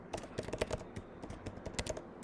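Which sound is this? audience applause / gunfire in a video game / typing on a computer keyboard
typing on a computer keyboard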